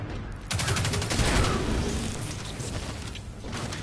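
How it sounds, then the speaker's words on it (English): Grenade launcher fire in the Destiny 2 video game, with a loud, dense burst of gunfire and explosive rumble filling a few seconds, mixed with game battle noise. "Let's pull out a grenade launcher real quick"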